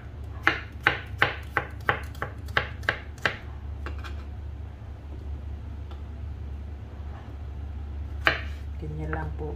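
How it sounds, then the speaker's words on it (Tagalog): A knife slices a cucumber on a cutting board in a quick run of about ten crisp, evenly spaced chops, then a pause and a couple of further cuts, over a low background hum. "hiwain lang po natin yung cucumber din"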